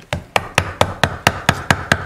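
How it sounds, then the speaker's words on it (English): A wooden carving mallet drives a chisel into quilted maple with nine crisp, evenly spaced knocks, about four per second, loud and close with no voices. "I recommend a mallet like this, or a maul, or whatever you want to refer to it as"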